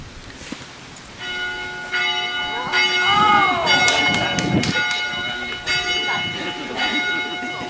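An Acadian church bell rings loudly at a flag-raising during the Festival acadien de la Nouvelle-Acadie, its repeated strokes overlapping into a rich, sustained metallic toll with faint crowd murmur behind.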